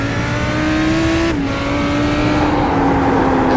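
A GT3 race car in a racing video game lapping a wet Circuit of the Americas track in heavy rain, its engine drone loud and constant, pitch dropping sharply mid-clip then slowly rising as the tyres struggle for grip.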